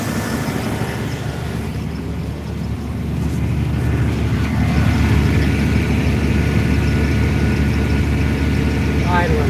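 An engine idling too high: a loud, steady drone that holds throughout and swells slightly partway through, with no voices.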